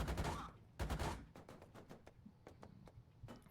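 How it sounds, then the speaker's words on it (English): Heavy machine gun fire from .50 cal guns mounted on M113 armored vehicles in a video game, heard as a ragged fusillade of sharp cracks, dense at first and then thinning into scattered shots over a low rumble. "we're being engaged by these M113s with their 50 cals"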